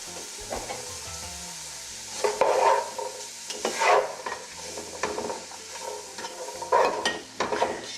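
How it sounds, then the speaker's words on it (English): A spoon stirs chopped celery and zucchini in a soup pot, giving several scraping, shuffling bursts over a soft background sizzle. "So go ahead and stir it around."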